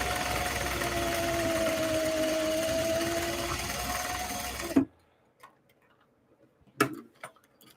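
A sewing machine runs steadily with a constant mechanical hum for about five seconds, then stops; a few faint clicks and a knock follow in near silence.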